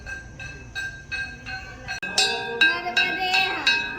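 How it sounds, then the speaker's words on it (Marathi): A temple bell carried by boys on a village procession along the Narmada parikrama route rings in repeated bright clangs, steady at first and then louder and busier, over a low rumble of background noise. "ग्राम फेरी मंदिरातला घंटा."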